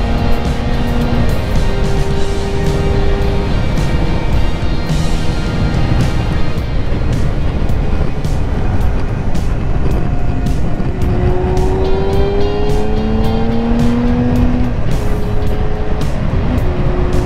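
Steady loud car road noise at 80 mph from a GoPro Hero 8 mount, a dense broadband roar with wind buffeting and engine drone, and faint rising and falling engine tones, no talk.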